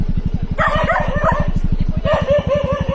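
Dogs bark at a campsite in Bataan, a few sharp barks close by over a steady rhythmic mechanical thumping, with voices in the background.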